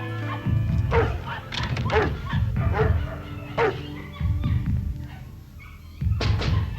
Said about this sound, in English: Quiet down, you goddamn mutt.